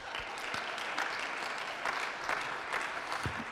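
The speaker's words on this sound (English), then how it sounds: "we're going to start out with a round of applause." A crowd claps steadily in a dense, continuous patter of applause, moderately loud and without voices standing out.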